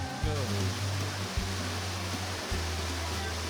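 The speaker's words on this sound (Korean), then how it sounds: "원시 열대림에서 흘러내리는 폭포에 더위가 싹 씻겨 내려가는 듯하다" A waterfall pours from primeval tropical forest in Mexico, a steady broadband rush of falling water throughout, with a voice talking over it and low tones underneath.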